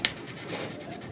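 Close, steady rubbing and light scratchy sanding against a rubber boot on a rear brake caliper during cleaning, one short continuous pass with a brief sharp tick at the start.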